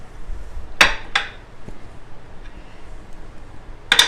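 Onions drop into a crockpot with pork loin, a few sharp clinks and knocks against the pot, close and brief with quiet pauses between, no talking.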